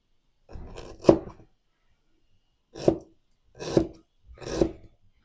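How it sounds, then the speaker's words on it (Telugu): A knife slicing fresh ginger into thin pieces on a cutting board, giving one longer rasping burst of cuts and then three short separate strokes, close and fairly quiet with no talk. "అల్లం కట్ చేసేసాను"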